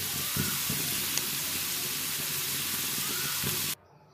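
Bitter gourd (karela) frying in oil in a pan, a continuous bright sizzle with a few soft stirring knocks, close and steady before cutting off abruptly near the end, no talking.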